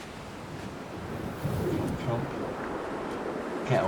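Windswept coastal ambience from the Dear Esther game: broad, steady wind and surf wash rolling continuously, with a few faint bird calls over the roar.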